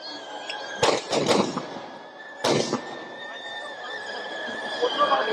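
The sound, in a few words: fireworks at Dussehra Ravana burning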